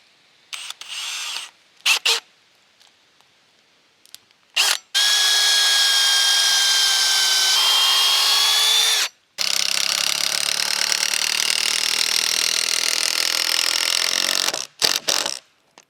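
A drill drives 8-inch screws through two stacked logs on a log cabin build, running loud and steady for several seconds, changing pitch as it bites deeper, framed by brief handling knocks and no speech.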